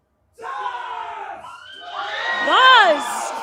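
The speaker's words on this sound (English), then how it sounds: "Oh, they are positively screaming." At a heavy-metal festival's band contest winners announcement, a large crowd screams and cheers, a sustained roar of high shrieks and whoops that swells louder toward the end.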